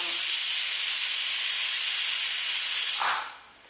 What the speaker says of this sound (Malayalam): ഇനി ഇതിൻ്റെ ആവി ഇതുപോലെ പോകണം.